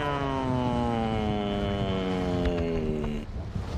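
Airplane drone in Call of Duty: Warzone on Verdansk, a loud, steady propeller hum with a rich stack of harmonics that slowly falls in pitch before cutting off into a scuffle of game noise.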